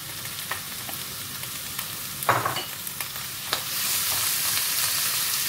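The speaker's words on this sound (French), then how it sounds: "Voilà, les champignons, ça va commencer à sauter." Mushrooms frying in a pan for a white lasagne sauce, a steady broadband sizzle with scattered stir clicks and scrapes. The hiss grows louder and denser toward the end, close by with no talking.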